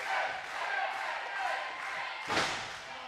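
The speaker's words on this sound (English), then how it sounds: "Listen to this crowd chanting for Jake, Jake, Jake." A crowd at a live pro wrestling show in Vista, California chants a wrestler's name, a rhythmic roar of many voices punctuated by a ring thud near the end.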